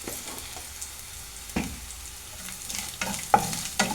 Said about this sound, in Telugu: జింజర్ గార్లిక్ పేస్ట్ అంతా పచ్చివాసన పోయే వరకు ఫ్రై చేద్దాం